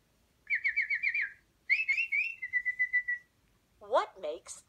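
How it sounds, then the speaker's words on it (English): A bird chirps and whistles in a city setting in a children's English-learning game, with clear, close tonal trills in two bursts followed by sharper rising chirps, heard alone with no talking. "What makes that sound? Right, a bird."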